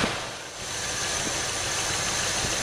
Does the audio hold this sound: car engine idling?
yes